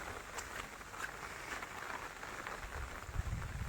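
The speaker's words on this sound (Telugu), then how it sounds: "కొంచెం కొంచెం ఎక్కువనే వస్తుంది వర్షం." Steady rain falls in a village during several days of heavy downpour, a continuous broadband hiss of drops pattering on surfaces at moderate level, with no talking over it.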